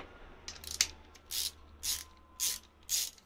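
A ratchet socket wrench with a 14 mm socket undoing a pulley bolt on a Kia Sedona Carnival / Hyundai 2.9 CRDi engine during timing belt work, a few faint clicks then four evenly spaced, close ratcheting strokes.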